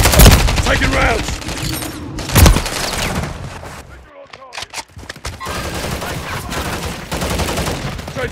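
Heavy automatic gunfire in Call of Duty: Modern Warfare III, loud sustained bursts with impacts, a brief lull of scattered shots midway, then firing resumes; game voices speak in between.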